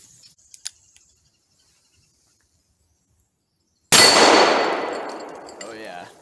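A single loud gunshot from a heavy bear-protection handgun round goes off after near silence, then rings out in a long decaying echo across an outdoor shooting spot, preceded by a few faint clicks.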